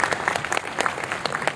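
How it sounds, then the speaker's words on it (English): Applause at an academic conference after a speech, a dense burst of many people clapping steadily and briskly at close range with no pause. "A big round of applause, please."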